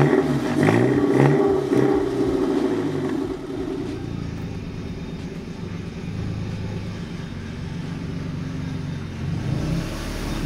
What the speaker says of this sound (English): We'll pull the 370 drift car in here that he's been building.